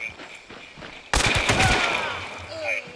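A shotgun blast in a hunting video game erupts suddenly, loud and close, with a sharp onset and a ringing tail that fades over a couple of seconds amid faint background game noise.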